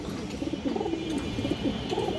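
Bagha pigeons coo softly and repeatedly at close range, a low, rolling series of calls with no voices over them.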